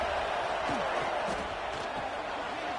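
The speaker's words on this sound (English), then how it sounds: "Listen to this crowd just shaking the girders of this place, trying to help their defense." Dense, steady roar of a packed stadium crowd at a college football game between Texas A&M and Georgia Tech, loud and continuous throughout with no letup.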